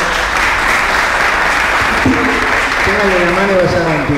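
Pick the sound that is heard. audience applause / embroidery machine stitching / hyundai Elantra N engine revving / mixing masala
audience applause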